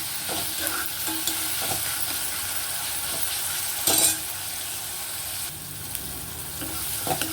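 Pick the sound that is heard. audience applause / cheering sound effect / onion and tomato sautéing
onion and tomato sautéing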